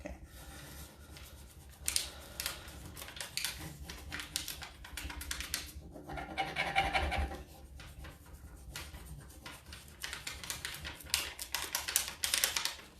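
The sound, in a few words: rubbing a furniture transfer onto a surface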